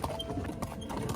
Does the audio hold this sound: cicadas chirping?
no